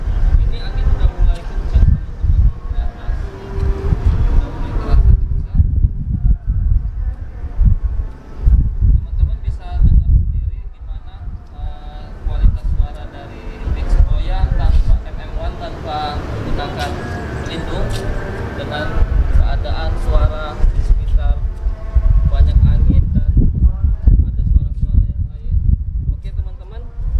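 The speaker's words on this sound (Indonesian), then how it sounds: "Ini angin sudah mulai kencang teman-teman di atas, sudah mulai terasa kencang." Strong wind buffeting a BOYA BY-MM1 microphone on a Canon EOS M6 camera, loud low rumbling gusts rising and falling throughout, with someone speaking over it.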